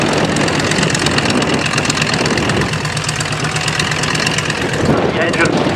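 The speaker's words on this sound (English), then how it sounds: "just starting up now with the aid of the puck starter in front of you is the Polycarpov PO2" A Polikarpov Po-2 biplane engine starts with a Hucks starter at an Old Warden airshow, settling into a loud, steady, rough running drone while a commentator talks over it.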